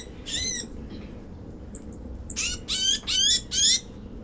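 A tufted titmouse held in the hand during bird banding gives harsh, scolding distress calls, several loud raspy bursts in quick succession, with a thin high whine running between them.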